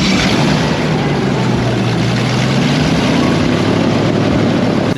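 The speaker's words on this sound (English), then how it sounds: "these things have giant V8 engines with just a giant propeller on the back of it, and they're freaking loud as hell" An Everglades airboat, a fan boat driven by a giant V8 engine with a huge propeller on the back, roars loud and constant up close, a dense steady drone with no break.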